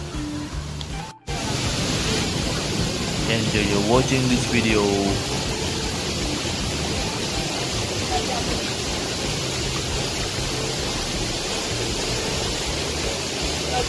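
Tibumana Waterfall in a green, moss-covered cliff setting gives a continuous, broad rushing hiss of falling water that stays steady throughout, with a person speaking briefly early on over the roar.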